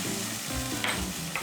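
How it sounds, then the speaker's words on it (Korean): Soy sauce and rice wine sizzle in a hot pan for braised tofu, a steady close hiss with light stirring scrapes. "여기에 간장과 청주를 넣어서 향을 내주십니다"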